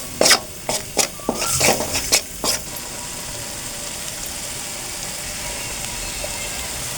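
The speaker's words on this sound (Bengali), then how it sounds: "সমস্ত মশলা আমি আবারও আর একটু ভালো করে নাড়াচাড়া করে নেব" Spoon stirring chicken masala spices in a pan, a few quick scraping and clinking strokes in the first seconds, then steady low sizzle and background hiss with no talk.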